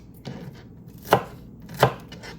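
An onion laid flat being chopped with a knife on a cutting board, three distinct thuds spaced evenly, close and clear with no talk.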